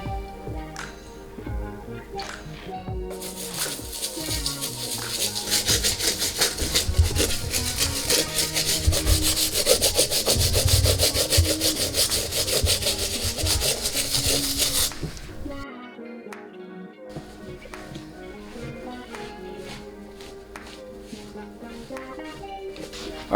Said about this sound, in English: Now I'm going to move on to the medium bristle brush, and this is going to be for the rest of the uppers